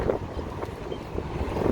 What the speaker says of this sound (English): Very windy on this corner.